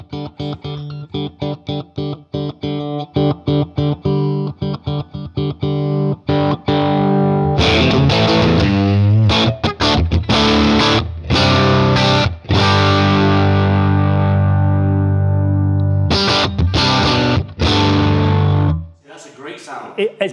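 An electric guitar plays through a TWS 2864-S clean amp. Chords and note runs ring out loud and close with a rich, effected tone, some notes sustained and some cut off sharply, before the sound drops away at the end.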